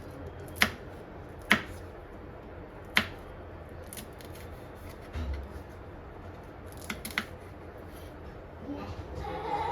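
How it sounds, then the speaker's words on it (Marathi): Sharp, quiet knife cuts through green chillies on a board, a few isolated clicks spaced apart, with soft shuffling and handling noises in a quiet room. "अशा मिरच्या चिरून घ्यायच्यात."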